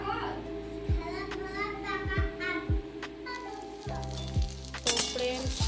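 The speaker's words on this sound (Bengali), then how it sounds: "শাকটা তো ভাজা হয়ে গেছে" Greens sizzling in hot oil, a steady frying crackle with scattered utensil knocks and a voice talking in the background.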